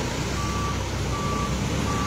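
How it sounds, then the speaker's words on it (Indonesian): A truck carrying spoil dredged from a river by an excavator sounds its reversing alarm, evenly spaced beeps over a steady engine rumble and roadside noise on Jalan A. Yani in Kertak Hanyar. "ini ada truk yang mengangkut hasil kerukan dari eskavator"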